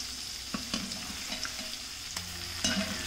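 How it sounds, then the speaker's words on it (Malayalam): Dynamite chicken pieces fry in hot oil in batches, a steady close crackle and sizzle broken by a few sharp clinks and stirring knocks as pieces are turned. "ഇതുപോലെ തിരിച്ചും മറിച്ചും ഇട്ട് നമ്മളിത് ഫ്രൈ ചെയ്തെടുക്കണം."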